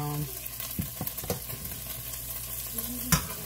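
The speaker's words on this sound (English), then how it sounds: "I'm going to be putting in the veggies, the onions and the mushrooms. We're going to go ahead and pretty much just saute" Onions and mushrooms sautéing in a pan for a stroganoff, a low, steady sizzle broken by several clanks and scrapes of a utensil stirring, with one louder knock near the end.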